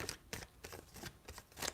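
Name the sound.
shuffling tarot cards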